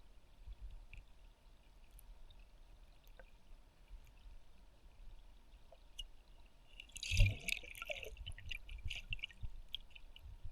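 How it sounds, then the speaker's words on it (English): Water runs into a small pot for shrimp stock at an outdoor cooking setup, a brief gushing pour rising midway and then trickling on under faint background ambience, with no talking. "So we'll go fill our little pot full of water"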